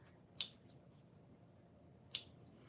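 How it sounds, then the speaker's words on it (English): Two separate sharp snips of scissors cutting into a fabric curve during sewing, close and faint against a quiet background. "So I'm trying to snip it"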